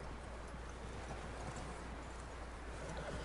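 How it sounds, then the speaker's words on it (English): Horse hooves clip-clop in the Red Dead Redemption 2 video game, a soft continuous patter of steps over a steady low rumble and hiss, moderately close, with no voices over it. "That looks like a decent horse."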